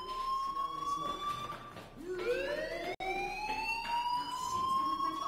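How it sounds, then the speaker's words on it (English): A fire alarm wails in the video game Life Is Strange, a rising and falling siren tone that sweeps up repeatedly, loud and continuous with a brief cut partway through. "Hey, you hear that fire alarm?"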